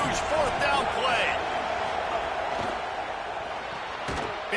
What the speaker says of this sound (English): This crowd bringing serious noise on this huge fourth down play.